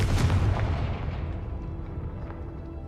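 A Confringo blasting spell goes off in a wizard video game, a loud booming burst at the start that rumbles and fades over a few seconds.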